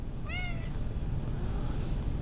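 A cat gives a single clear, close meow, a short rising-falling call heard over a steady low background hum.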